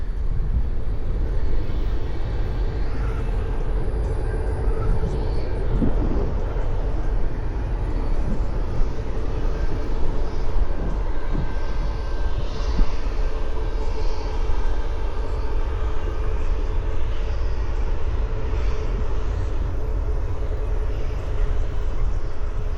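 An airplane passes low overhead in the flight path near runway 13 in Dallas, a loud, continuous engine roar that fills the whole stretch without talk.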